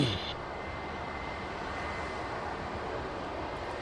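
QantasLink flight 497, an airliner taking off at Sydney Airport, gives a steady, broad roaring engine rumble that holds at an even loudness throughout, distant and unbroken, with no voices.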